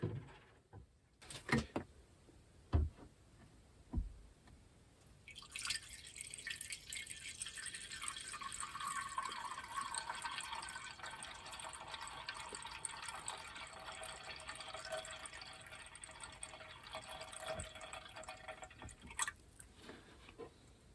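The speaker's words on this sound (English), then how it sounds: "allow this to fill up, and it should make the whole thing drain pretty even" A few drips and knocks, then water pours steadily into a plastic tub, a continuous hiss and splash, before it stops.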